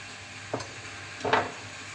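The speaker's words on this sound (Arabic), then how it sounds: "هنزل بشويه زيت في الصينيه، نحط البصل بتاعنا" Onions fry in oil in a pan, giving a soft, steady sizzle with two brief scraping stirs, the second louder, at close range.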